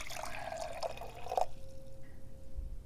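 Water is poured into a glass indoors: a soft, trickling stream lasting about a second and a half, then a faint ringing settle, quiet and close.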